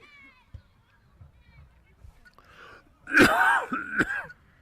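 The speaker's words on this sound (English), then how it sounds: "Excuse me for coughing." A couple of harsh, throaty coughs close up, following faint murmuring in the background.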